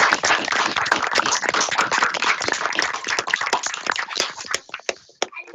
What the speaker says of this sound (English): And we'll attempt to give you a round of applause.